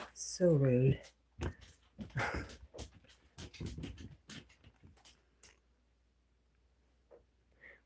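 A dog gives a short high whimpering whine at the start, then a person talks nearby and faint rustling and chewing-like noises follow.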